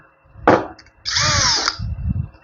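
A Thai-brand 18-volt lithium cordless drill: a short motor burst, a pause, then a longer loud whirring run, close by, with no talk over it.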